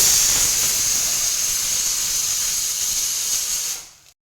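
Cluster beans dropped into a hot pan with oil, onion, garlic and chillies give a loud, steady sizzling hiss that holds close and even for about four seconds, then cuts off.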